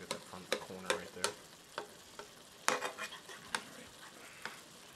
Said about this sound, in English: with your spatula, just make sure you dig all the way down